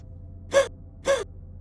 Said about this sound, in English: She begins gasping for breath.